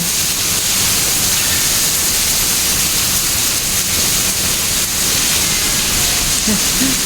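Heavy rain pours steadily in Singapore, a dense, continuous hiss close by that fills the whole stretch with no break or change in intensity.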